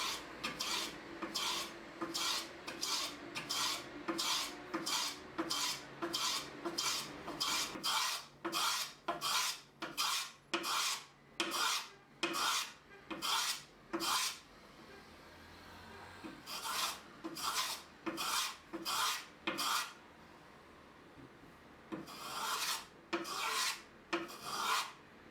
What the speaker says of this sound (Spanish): Empiezo por los biseles de los extremos, donde vamos a cepillar en sentido transversal a la veta.